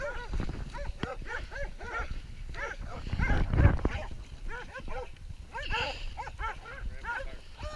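Hunting dogs barking repeatedly and excitedly during a wild hog hunt outdoors, with a burst of heavier commotion partway through and people talking over the barking.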